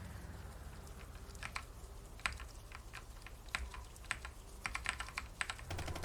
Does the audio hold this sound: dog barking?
no